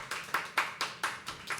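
Clapping from a small audience at a live poetry open mic, about six evenly spaced claps in a steady rhythm, close and fairly soft with no talking.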